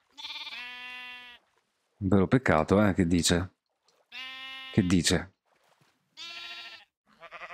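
Sheep in the Minecraft video game bleat in several short, wavering cries that alternate with bursts of nearby speech, each bleat standing clear in the pauses between voices.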